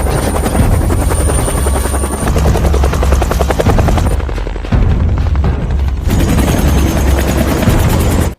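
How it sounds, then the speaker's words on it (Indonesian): A helicopter thunders loudly overhead, its rotor blades chopping in a fast steady rhythm that briefly dips before returning at full strength. "melihat helikopter melintas tak jauh di atas mereka"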